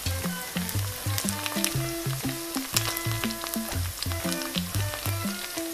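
Chicken rolls deep-fry in hot oil, bubbling and crackling steadily. Sharp pops and spits break through again and again, close and fairly loud, with no one speaking.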